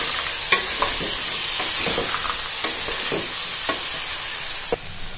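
Jackfruit biryani with rice being stirred in a hot pan, a loud continuous sizzle marked by scattered scraping and clanking strokes of the spoon, then an abrupt drop in sound near the end.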